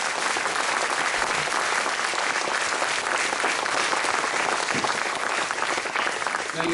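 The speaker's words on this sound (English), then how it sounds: "So can we take a minute now and just give a huge round of applause to Bob Style and Squire Shop." Sustained applause from an audience at a reunion discussion panel honoring a sports shop, steady dense clapping throughout with no pauses, loud and close.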